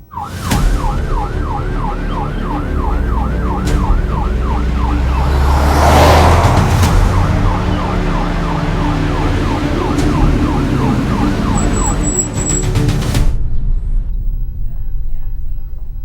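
An ambulance siren wails in a steady repeating up-down cycle over traffic rumble, loud and near, with a brief high electronic beep near the end before it cuts off; no talk.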